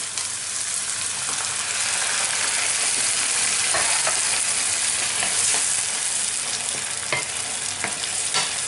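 Green beans and chorizo frying in a pan as tomato goes in, a steady loud sizzle throughout with occasional stirring scrapes and pops, no talking.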